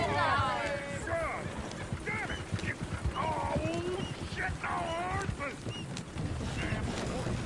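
Horse hooves clip-clop steadily in Red Dead Redemption 2 under a busy mix of voices and calls, with the rhythmic hoofbeats partly masked by talk throughout.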